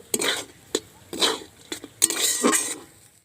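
Spoon scraping and stirring a semolina mixture with coriander leaves in a pot, several short bursts of clattering strokes with pauses between, close and fairly loud, no voices.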